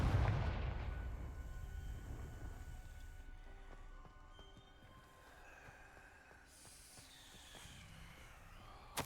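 Confringo spell blast in Hogwarts Legacy, a loud booming explosion at the start that rumbles and decays over several seconds, followed by quieter crackling debris and ambient game sound.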